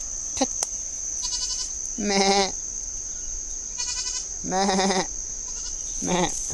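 Several goats bleat loudly and nearby in separate wavering cries a second or so apart, over a steady high-pitched hum.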